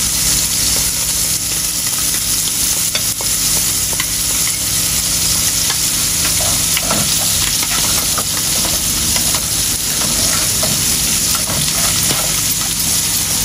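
Poti fish frying in hot oil give off a loud, steady sizzle with constant crackling spatters, close up and unbroken throughout.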